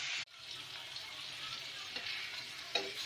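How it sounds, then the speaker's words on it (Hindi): Chicken pieces frying in hot oil in a pan give a steady, close sizzle that starts abruptly after a brief click and holds evenly throughout, with faint crackles. "अब चिकन को हम दोनों साइड से 5-5 मिनट के लिए हमने इसे कुक करना है ताकि चिकन गल जाए, चिकन पक जाए।"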